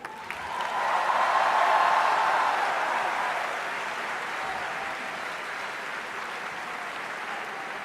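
A large conference audience at the IMA International Management Conclave breaks into applause greeting Amitabh Bachchan, swelling to a dense peak then settling into sustained, slightly distant clapping.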